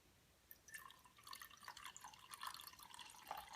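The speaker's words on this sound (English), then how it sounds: "Next, you want to add about the same amount of water as you did glue." Water is poured into glue for slime, a faint trickle and splash that builds over a few seconds with small liquid patters and drips, alone and quiet.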